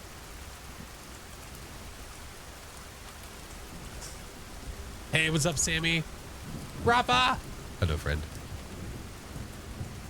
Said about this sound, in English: The rain's gonna put you to sleep.